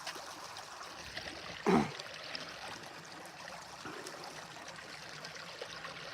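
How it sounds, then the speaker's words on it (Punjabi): Irrigation water flows steadily into a wheat field, a soft continuous trickling stream heard close by with one brief louder splash or knock early on. "ਆ ਦੇਖ ਇਹਨੂੰ ਲਾ ਰਿਆ ਪਾਣੀ ਵੀਰੇ"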